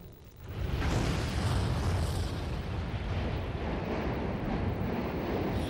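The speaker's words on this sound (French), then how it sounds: "chaque fois que vous voyez une explosion comme ça, en fait, c'est des bulles qui montent à l'intérieur du conduit éruptif." An explosive volcanic eruption in Vanuatu, with gas bubbles bursting up the vent, swells from a quiet start into a deep, continuous roaring rumble that holds steady and loud throughout.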